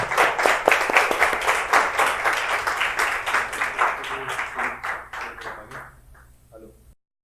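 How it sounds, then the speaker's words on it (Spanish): Audience at a talk with a photographer gives a round of hand clapping, brisk and crowded at first, then thinning into scattered claps that fade out before a final quiet pause. "un aplauso y un gracias"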